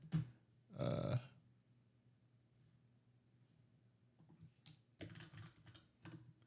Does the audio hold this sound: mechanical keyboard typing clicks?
yes